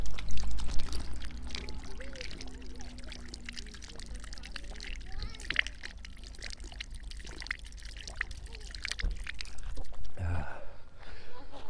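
Water runs and trickles from a drinking fountain high on a mountain in Georgia, a soft, uneven splashing pour at close range over faint outdoor background noise.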